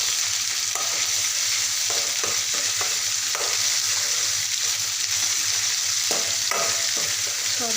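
Garlic and coconut paste frying with softened onions in a pan, a steady loud sizzle with scraping spoon strokes stirring through it at irregular intervals, no voices.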